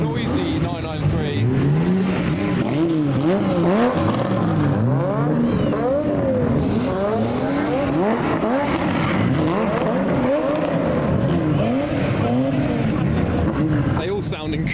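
Modified cars roll past in an underground car meet, among them a loud Porsche 993: a steady stream of engines revving and rising and falling in pitch as each car passes close by, one after another, for about fifteen seconds.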